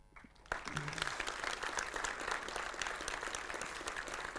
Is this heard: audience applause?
yes